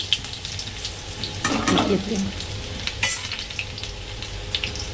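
Garlic cloves frying in refined oil in a kadai, a steady close sizzle with a brief louder burst of spattering and stirring midway, no talking.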